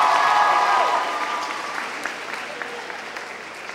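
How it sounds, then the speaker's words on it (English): Audience applause at a school Year 11 certificate ceremony, dense clapping that starts strong and gradually thins and quiets, with a brief voice near the start. "Can we have a nice big round of applause in his absence, Ali Hassan Dalal, who's not here."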